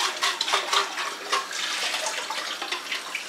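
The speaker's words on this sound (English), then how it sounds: "Gonna add the water." Water pours steadily into a pot of smoked and dried turkey soup, a continuous splashing stream running close and fairly loud for a few seconds.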